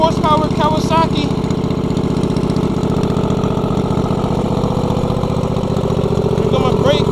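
Racing lawn mower fitted with a 23 horsepower Kawasaki engine, running loud and steady at a close distance, with a person speaking over it.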